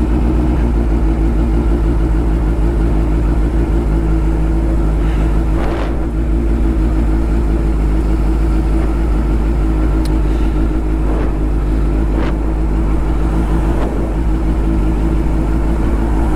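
A Suzuki Hayabusa turbo motorcycle engine drones loudly and steadily during a ride, with a constant close mechanical hum and wind rush and a few faint transient bumps.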